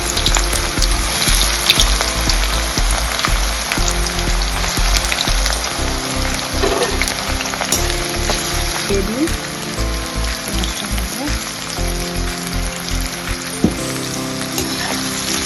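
Onions fry in oil toward light brown, a dense and continuous sizzle that stays loud and close throughout, with faint voices in the background.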